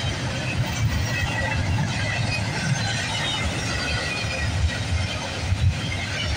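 CSX freight train I-158 rolls past at Bayview Rd, a loud continuous low rumble of rail cars with faint wheel squeal and rhythmic clicking throughout.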